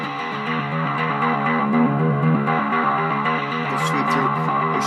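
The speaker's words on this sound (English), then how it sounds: "if I turn the clean off, you'll hear it just the distortion" An electric guitar played through an EBS Sheehan Drive pedal with only the distortion channel on and the clean blend off, giving a buzzing, saturated run of repeated notes, steady and close, with no talking.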